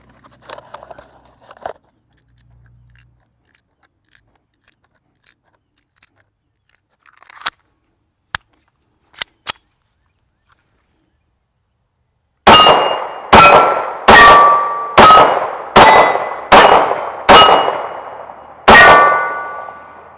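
A Bersa Thunder .380 pistol fires Aguila 95-grain full metal jacket rounds: about eight sharp, loud, ringing shots at a steady pace, following a few faint clicks and handling noises from loading.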